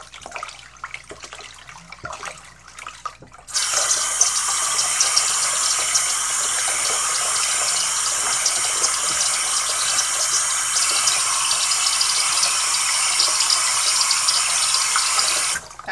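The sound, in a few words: water running while rinsing hair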